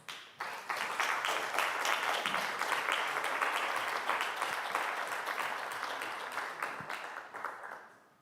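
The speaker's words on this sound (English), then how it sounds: "Please give them both a warm round of applause" Warm audience applause for two speakers at an arts and technology event, a dense, even wash of many hands clapping for about seven seconds before tapering off.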